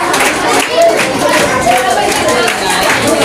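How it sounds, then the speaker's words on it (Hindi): At a secondary school award ceremony, a hall full of people claps in steady, dense applause throughout, with a voice speaking over it in places. "अच्छा ताली रुकनी नहीं चाहिए आप लोग की।"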